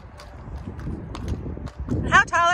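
A horse led at a walk, hooves clip-clopping in a steady, uneven rhythm on hard ground, with people talking over it throughout.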